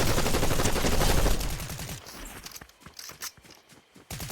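Fortnite gunfire erupts in a dense, loud burst of rapid shots, then breaks into scattered sharp cracks and thuds over game background noise.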